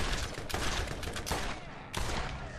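Legendary Masher shotgun-style gun firing repeatedly in Borderlands, loud dense bursts of blasts with a few sharp, stronger shots standing out over a continuous roar of gunfire.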